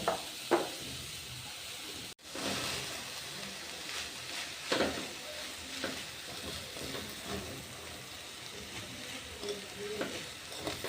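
Spring onions and leek sizzle and fry in a pan for a samosa filling, a continuous soft hiss broken by occasional stirring scrapes and knocks, with one brief dropout early on.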